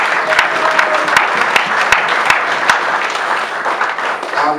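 A church congregation at a Thanksgiving Sunday service applauds, a full, continuous round of clapping from many people with a few sharper individual claps standing out, and faint voices murmur underneath.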